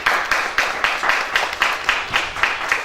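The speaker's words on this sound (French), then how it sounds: "Nous devons l'applaudir." A crowd at a political gathering in Côte d'Ivoire applauds, a loud, close patter of hands with rhythmic pulses of roughly three claps per second in unison throughout, and no talking.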